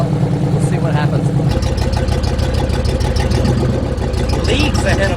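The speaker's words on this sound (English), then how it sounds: "Idle seems light years smoother, guys, much smoother." A freshly repaired, worn car engine idles close by with a steady, even rumble, while someone talks over it.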